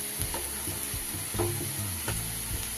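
Onions fry and get stirred in a pan for chicken dopeyaza, a close, continuous sizzle broken by a few heavier scraping strokes of the spoon, with no talk.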